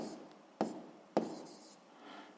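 Pen or chalk writing during a physics lesson, two sharp strokes or taps standing out against a faint scratchy background in a quiet room.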